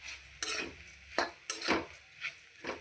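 Poha being turned over in a pan with a spatula, a few soft scraping and clinking strokes spaced irregularly, close and fairly quiet with faint sizzle beneath and no talking.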